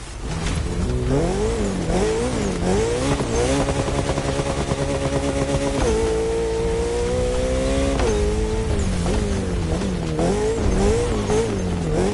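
Ferrari F50, a road-legal sports car with a Formula One–derived engine, roars loud and close throughout, its engine note climbing and falling through repeated revs and upshifts with no talk over it.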